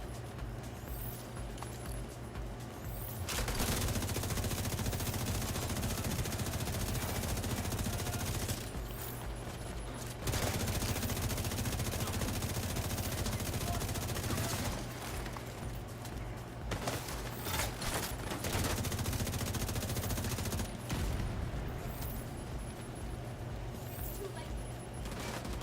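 Sustained automatic turret fire rattles through a firefight in The Division 2, coming in long dense bursts separated by brief pauses, loud and continuous throughout.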